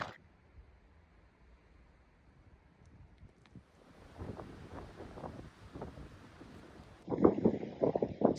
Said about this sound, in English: It's a bit wet, it's a bit windy